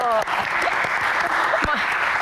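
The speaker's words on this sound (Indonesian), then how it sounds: "Tepuk tangan dulu" Studio audience applauding on an Indonesian talk show, a dense steady clapping that fills the whole stretch at close range, with a few brief voice fragments and cheers poking through.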